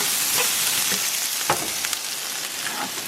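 Garlic frying in a pan gives a steady, close sizzle with occasional soft clicks and stirring knocks, and no one speaks over it.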